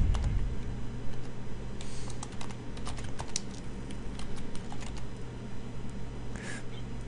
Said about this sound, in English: now what you got to do is type in description.